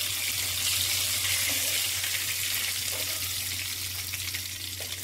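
Fish sizzling in hot oil in a home kitchen, a steady dense crackle and hiss that runs close and fairly loud throughout, with no voices over it.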